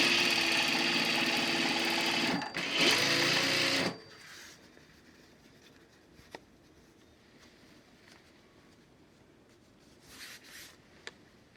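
Sewing machine stitching pleated cotton fabric for a face mask, a loud dense whirring run for about four seconds that stops abruptly, followed by quiet handling noises and a couple of small clicks.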